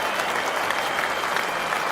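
Sustained applause from the crowd at Lord's cricket ground during an MCC versus Rest of the World match, dense and steady clapping throughout.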